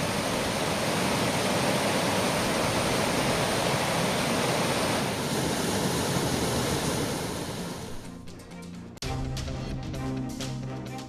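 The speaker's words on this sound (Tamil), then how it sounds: "மதுரை வைகை ஆற்றில் 2வது நாளாக கரை புரண்டோடுகிறது வெள்ளம்." Floodwater rushing through the Vaigai river at Madurai, filling both banks: a loud, dense, continuous roar for most of the stretch, then an abrupt cut to a brief tonal musical sting.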